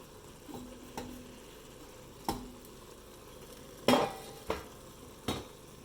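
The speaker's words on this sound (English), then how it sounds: "First I will cook the spinach for 2, 3, 4 minutes so it wilts down a little bit before I add the lentils to it" Spinach wilting in a pan for dal palak, with a soft low sizzle under a few sharp clicks and scrapes of a utensil stirring, close and fairly quiet, no voices.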